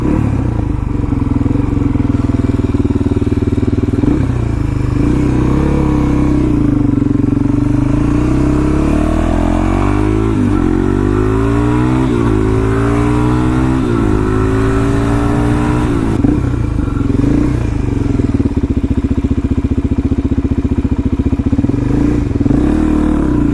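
A Suzuki DRZ400 dual-sport motorcycle on the move, its engine droning loud and close, climbing through several rising revs and gear shifts before settling back to a steady cruise.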